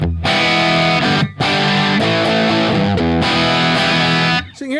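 Electric guitar through a tube amp fitted with 77 tubes on its dirty channel, loud gritty distorted chords strummed in steady bursts with short breaks, close and alone.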